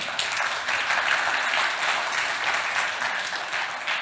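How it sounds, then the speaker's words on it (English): Loud, continuous applause from a conference audience for speaker Josie West, a dense, even rush of many hands clapping that lasts throughout. "Give her a round of applause"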